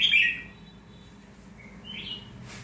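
A caged red-whiskered bulbul sings two short, bright phrases, a clear whistled burst at the start and a rising note a couple of seconds later, close by in a quiet setting.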